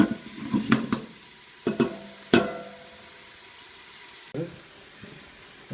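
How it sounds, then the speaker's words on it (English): Onions cook on high heat in a pan, heard as a few bursts of stirring and scraping over a soft sizzle, close by, with quieter gaps between the movements. "You can pay attention to your onions and cook them on a high heat."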